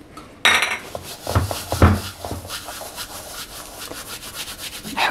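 Coarse salt crushed and rubbed between the hands over a bowl while preparing pizza dough, giving a close, gritty scraping and rubbing with a few sharper crunches early on, then a steady softer grind.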